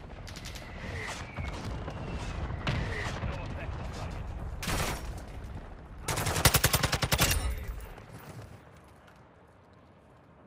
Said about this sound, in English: Oh, I'm getting shot from behind too.